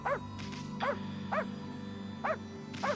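Amaterasu, the wolf goddess in the game Okami HD, gives five short, bright dog barks spaced at a steady rhythm over a low continuous game soundscape.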